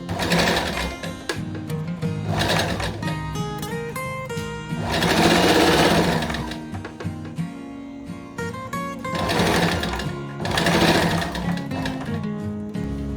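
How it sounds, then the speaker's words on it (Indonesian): A sewing machine stitches the shoulder and side seams of a dress, a loud close mechanical whir that rises and eases as it runs in spurts, with no talking. "dan kita akan jahit dari bahu ya, kemudian samping dan samping"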